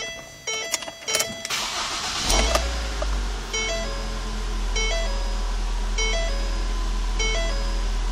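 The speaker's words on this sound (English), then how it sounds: "Let's go ahead and get in, start it up, and see how it sounds." A 2011 Ford Fusion SEL with about 42,859 miles cranks over with a short whirring starter burst, then settles into a steady low idle, while dashboard warning chimes repeat in a regular pattern above it.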